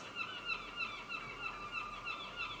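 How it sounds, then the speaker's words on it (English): Seagulls call repeatedly in a rhythmic series of high, nasal cries, faint and somewhat distant outdoors, with no talking over them. "These seagulls!"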